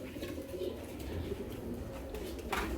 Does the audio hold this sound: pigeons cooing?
yes